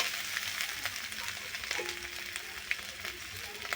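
Boiled elephant foot yam stalks go into spices frying in a pan, giving a steady close sizzle with faint scraping and stirring. One brief sharp click stands out near the end.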